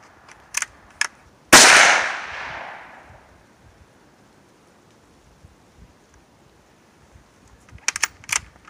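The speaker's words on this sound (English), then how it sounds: "We got Bill taking pot shots at Hilary now" A single loud gunshot cracks close by at an outdoor shooting range and rings out in a long decaying echo, with faint short clicks before it and more clicking from a manual-action firearm being handled afterward.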